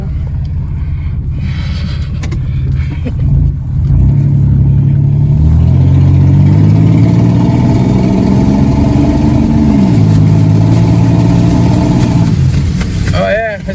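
A 1998 Oldsmobile 88 with a plugged catalytic converter pulls away under acceleration, its engine drone loud and close, rising steadily in pitch as it revs, then easing back near the end.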